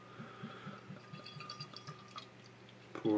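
Amber ale pours from a bottle into a glass, a faint, quiet trickle with soft rhythmic glugs and small drips, ending in a louder clink.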